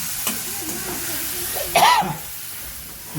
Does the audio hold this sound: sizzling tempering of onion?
yes